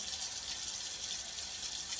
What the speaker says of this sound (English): start with your clean sink. You want to run water.